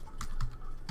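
Three crisp keystrokes on a computer keyboard, spaced unevenly a fraction of a second apart, close and clear over a faint room hum.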